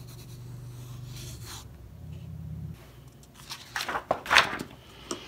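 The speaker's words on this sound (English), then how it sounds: "I'm not trying to draw anything here of any consequence" A pencil moving across sketchbook paper makes soft scratchy strokes at a steady rhythm, then sharper, louder scrapes and quick marks near the end, close up with no voices.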